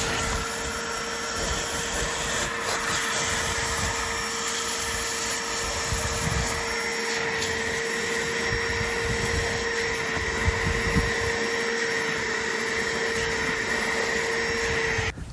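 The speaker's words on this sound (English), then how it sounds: "When it comes to carpets and cloth seats, having an extractor is probably the best tool." A carpet extractor working over car carpets and cloth seats during a mobile detail, a loud, steady motor whine with a constant tonal hum and airy rush, close and unbroken throughout.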